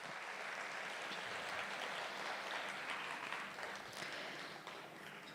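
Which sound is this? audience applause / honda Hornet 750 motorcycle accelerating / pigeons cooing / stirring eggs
audience applause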